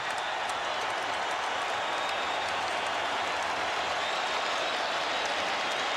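A boxing arena crowd applauds and cheers in a dense, steady roar of clapping at a heavyweight title fight, with no single voice standing out.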